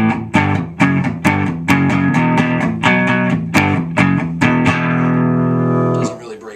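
Clean electric guitar chords from a Kramer Pacer Classic strummed hard through an amp's clean channel, a steady run of bright, ringing strikes that stays undistorted before the final chord rings out and fades.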